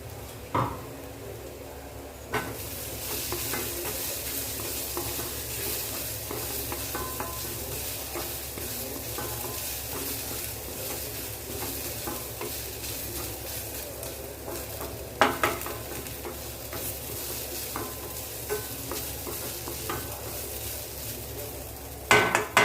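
Mushrooms fry in a pan with a steady sizzle that runs throughout. A spoon stirs them with occasional scrapes and metallic clanks, and a few louder knocks stand out.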